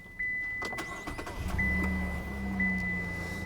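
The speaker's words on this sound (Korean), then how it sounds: "시동을 한번 걸어 볼까요?" A Chevrolet Colorado pickup's 3.6-litre gasoline V6 cranks and catches after a few clicks and a chime, settling into a smooth, quiet idle close by.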